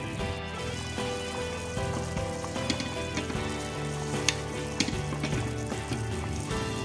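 Creamy chicken macaroni sopas simmering and sizzling steadily in a pot, with soft scraping and clinks of stirring over the continuous bubbling, close and moderately loud.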